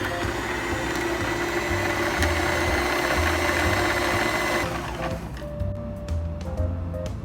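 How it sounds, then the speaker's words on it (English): An electric sewing machine winding its bobbin under foot control gives a steady, close motor whir with a rhythmic mechanical chatter for several seconds, then cuts off, leaving faint clicks and a thin tone. "Switch on the machine and then use the foot control to wind the bobbin"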